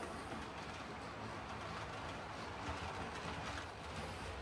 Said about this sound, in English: So we'll go ahead and put this on our train and give it a little test run here around the track.